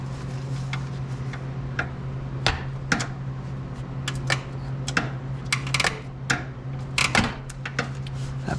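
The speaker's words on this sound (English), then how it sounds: "That popping noise and cracking noise is the bolt turning." A seized bolt on a 2001 Miata 6-speed transmission being turned with a breaker bar, giving irregular sharp pops and cracks over a steady low hum, close and moderately loud.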